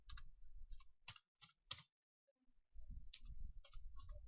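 Bursts of keystrokes on a computer keyboard, close and fairly soft, come in quick irregular clusters with a short pause in the middle before the typing resumes.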